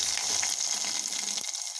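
Garlic sizzling as it drops into hot oil with cumin and mustard seeds while buttermilk sambar cooks, a soft steady frying hiss that cuts off abruptly near the end.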